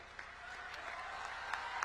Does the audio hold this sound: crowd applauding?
yes